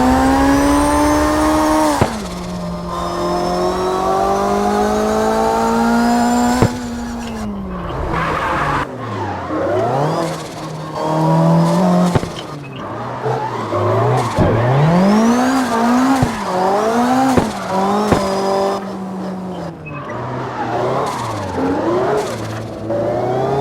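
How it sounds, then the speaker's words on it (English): Low-horsepower cars drifting in the racing sim Assetto Corsa, tires squealing in long sweeping wails over a constant engine drone that rises and falls with throttle, continuous and close. "They tend to drift in Assetto Corsa with lower horsepower, usually in the 200 to 400 horsepower range."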